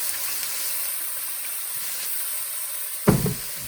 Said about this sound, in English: So now we'll add the wine, and it's a Chardonnay.